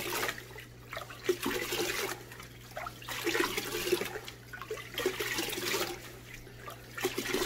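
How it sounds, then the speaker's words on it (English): Aquarium filters from a Fluval Flex 32.5-gallon saltwater mini reef tank are rinsed in the tank's own water, giving steady, close splashing and trickling with a low continuous hum beneath and no talk. "So I'm going to rinse everything off right here in the actual water"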